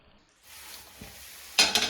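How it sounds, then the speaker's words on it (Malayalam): Meat and vegetables for a beef stew start to sauté in a pan, a short sizzle that builds from near silence, then a sharper burst of stirring at the end. "എന്നിട്ട് നന്നായിട്ട് അതിനെ ഒന്ന് സോത്തേ ചെയ്തെടുക്കുക"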